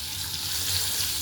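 Food crisping in hot oil gives a steady, close broadband sizzle and crackle throughout, with no talking over it.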